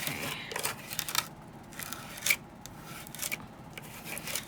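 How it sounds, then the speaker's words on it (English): Card-making paste is scraped across a stencil with a sturdy scraper, giving several close, dry scraping strokes in short uneven bursts separated by brief quiet gaps. "So the reason why I am scraping this on and then off"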